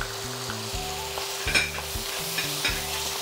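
Oyster sauce is stirred into jajang sauce of chunjang and vegetables frying in a pan, with constant sizzling and repeated scraping stirs and small clatters throughout, no voices.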